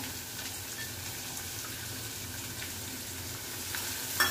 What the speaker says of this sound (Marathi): आलं लसूण 1-2 मिनिटं परतवून घेतलं की आपण ह्याच्यात घालूया कांदा